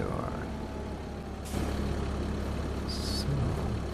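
Truck in Farming Simulator 25, a low steady engine idle with a sudden hiss like an air brake release midway, followed by a short high electronic beep.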